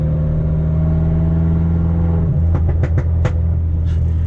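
Turbocharged Mini engine idling steadily at about 2,000 RPM in normal mode, a loud, close, even hum with a few brief sharp blips near the end.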